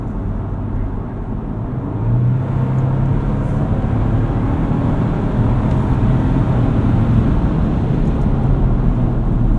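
Inside a 2024 Ford Ranger XLT 4x4 pickup driven in sport mode, loud, constant engine and road drone rises slightly after a couple of seconds and holds steady, with no one speaking.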